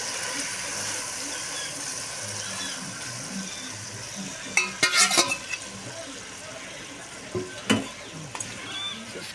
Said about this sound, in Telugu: చికెన్ 10 నిమిషాలు నూనె పైకి వచ్చేంత వరకు చికెన్ని వేయించుకోవాలి.